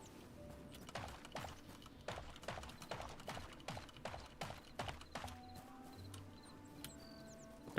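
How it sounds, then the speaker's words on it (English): Horses gallop in the video game Hytale, their hooves making a quick, rhythmic clip-clop of soft, repeated beats. The galloping is moderately distant and fairly quiet, with a few faint extra noises near the end. "There's horses right there."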